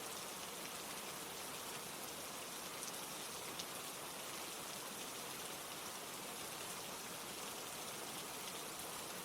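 Steady rain falls continuously, a dense even hiss of drops on surfaces, close and enveloping, with no voices or other sounds over it.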